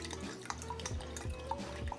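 Soy sauce poured into a slow cooker: a soft liquid trickle with a few drips, faint and close, with no voices.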